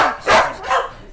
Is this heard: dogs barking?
yes